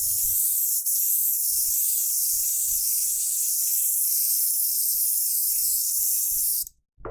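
A cheap $40 Amazon airbrush sprays opened wide, a steady close high-pitched hiss that runs unbroken for about seven seconds, then cuts off abruptly, with faint low knocks beneath.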